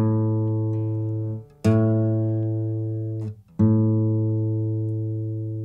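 A single acoustic guitar string is plucked three times and left to ring, its low pitch wavering slightly as it is adjusted by ear between plucks; close and clear, with no talking.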